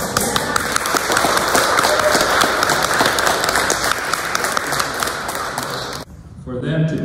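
Audience applause at an elder justice fair held at a county law library, with dense, steady clapping from a crowd for about six seconds before it stops abruptly and quieter room sound follows.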